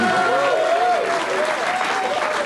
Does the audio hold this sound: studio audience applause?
yes